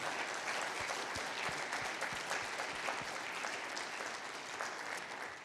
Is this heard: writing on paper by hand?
no